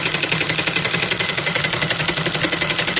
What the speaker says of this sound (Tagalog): ito na yung bilis ng makina natin. Todo na yung tapak niyan.